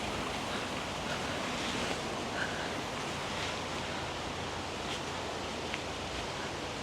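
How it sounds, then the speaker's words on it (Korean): Wind moves through the leaves of a bamboo forest, making a soft, steady rustling hiss that stays low and even throughout, with no one speaking. "시원한 대나무 숲 안으로 들어왔어요. 바람에 날리는 사각사각 소리가 굉장히 듣기 좋습니다."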